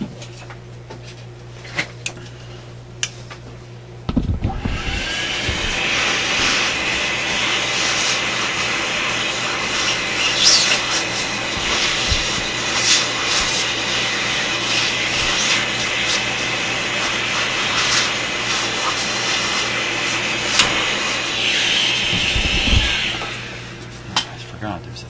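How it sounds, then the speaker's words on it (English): A vacuum cleaner runs briefly over an old Koronette console stereo, a loud, steady broadband roar starting abruptly and holding for nearly twenty seconds before cutting off, with small clicks and bumps along the way. "I think I'm just going to run the vacuum briefly here."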